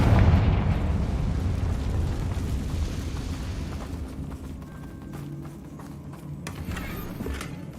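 A Confringo blasting spell goes off in Hogwarts Legacy on PS5, a loud, broad rumbling blast that fills the opening and then fades into a long, low, noisy decay with faint scattered crackles.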